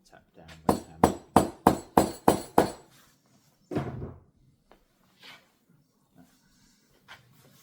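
A hammer tapping down leather over the corner of a stool being reupholstered with recycled sofa leather: seven sharp, evenly spaced knocks in quick succession, then a couple of softer, scattered taps with room noise.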